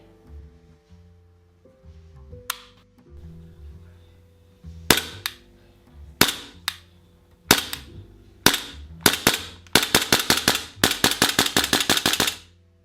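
A Tokyo Marui M&P9L gas blowback airsoft pistol fires BBs, starting with scattered single sharp cracks and building into rapid, evenly spaced shots, each a crisp snap over a low background hum.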